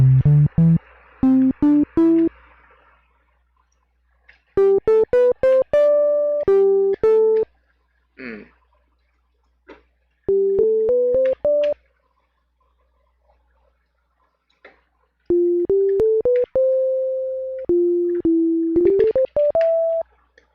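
Bright, synthetic Sega Genesis FM tones made in Deflemask play in short staccato runs and sustained notes, separated by silences, with a few odd blips in between.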